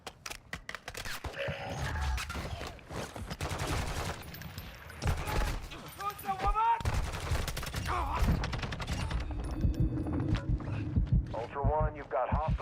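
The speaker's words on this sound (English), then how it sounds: "I don't even know who's shooting at me." Gunfire in the video game Call of Duty DMZ, with rapid bursts and scattered shots cracking at close to mid distance, mixed with game effects while someone talks over much of it.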